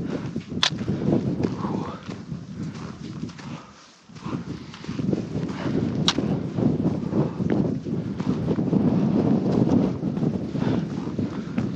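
Cold wind gusting steadily across an open mountain slope during a solo multi-day hike in the Khamar-Daban range, a dense rumbling roar broken by a brief lull midway, with occasional sharp buffets on the microphone.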